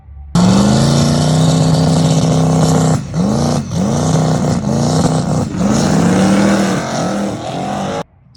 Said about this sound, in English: I put the car up on the trans brake, and it basically was cutting.